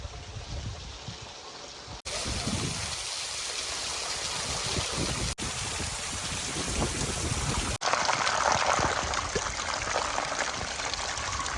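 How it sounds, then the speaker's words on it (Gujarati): Heavy monsoon rain pours down steadily on a farm with flooded fields, a dense hiss of water falling nearby that shifts in loudness through a few abrupt changes. "વરસાદ તો ચાલુ જ છે ક્યારનો"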